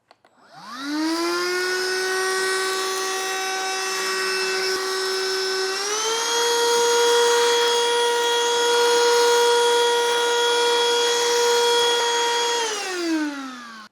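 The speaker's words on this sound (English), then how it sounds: "Now let's give the vacuum a quick test to see how it works freshly out of the box." A BLACK+DECKER Dustbuster AdvancedClean+ handheld vacuum spins up to a steady high whine as it sucks up crushed cornflakes, shifts higher in pitch midway when boost mode kicks in, then winds down, with no voices.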